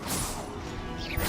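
An Expelliarmus disarming spell goes off in Hogwarts Legacy, a single quick whooshing crash that swells and fades within about a second, fairly soft and alone.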